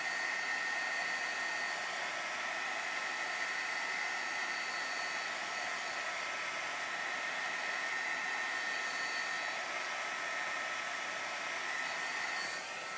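A heat tool blows steadily and loudly at close range for the whole stretch, drying watercolor paint on holiday tree tags with an even, unbroken rushing whir.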